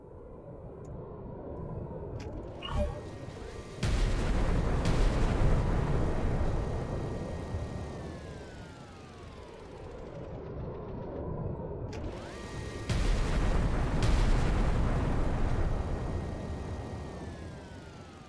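Bombers drop bombs in the Artificial Extinction 2 strategy game, two long loud booming blasts that swell and fade over several seconds each, with falling whistles and a steady mechanical hum beneath.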